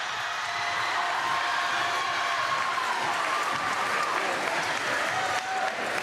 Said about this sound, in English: Listen to this crowd roar.